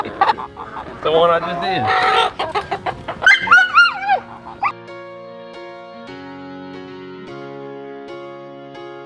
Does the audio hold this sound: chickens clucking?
yes